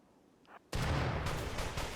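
Inferno Cannon turret in the game Rimworld firing with a sudden loud blast that turns into a sustained roaring, crackling burst lasting over a second, dense and close, after a quieter lead-in.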